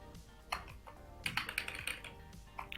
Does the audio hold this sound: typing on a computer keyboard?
yes